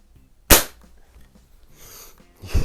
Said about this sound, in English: I hope you can tell the difference in the muzzle report on between these two.